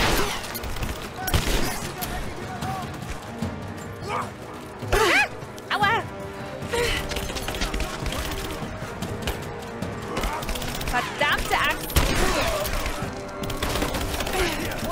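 Rapid bursts of gunfire from the video game Rise of the Tomb Raider crackle in clustered volleys with mechanical clicks between them, loud and close, while someone talks over the shooting.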